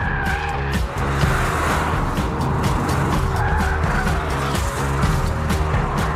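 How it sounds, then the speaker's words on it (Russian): Volkswagen Up small car cornering hard on a track, engine loud and close with sustained tire squeal and skidding running throughout, no talk. "И, несмотря на лишний вес, Up весьма проворен на поворотах."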